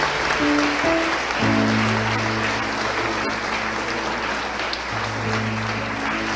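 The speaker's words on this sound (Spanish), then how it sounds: "¿Pueden dar un aplauso a ellos?" Church congregation applauding after a pastor's sermon prayer, steady broadband clapping throughout with a sustained organ or keyboard chord underneath.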